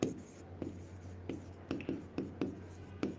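A sentence being written on a board during an English grammar lesson: a series of short, scratchy strokes and taps in an uneven rhythm, close and fairly quiet, with no talking.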